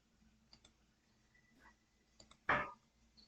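Computer mouse buttons click in a quiet room: a few faint, quick clicks, then one sharper and louder click near the end, all close and isolated.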